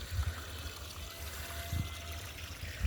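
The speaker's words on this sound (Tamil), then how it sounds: "தண்ணி ஓடிட்டுருக்கு பாருங்கள்." Water trickles and runs over curing cement at a construction site, a faint steady flow with a few soft low splashes.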